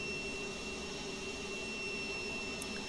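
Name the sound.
American Airlines MD-80 jet engine sound in flight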